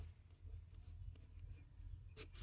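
Pen scratching on paper while a math problem is worked out, several short quick strokes, close and quiet over a low steady background hum.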